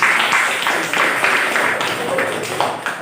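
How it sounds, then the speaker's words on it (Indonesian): Students clapping for a group in a school classroom, a modest scattered round of applause in loose uneven bursts that carries on at moderate level. "Tepuk tangan untuk kelompok 4"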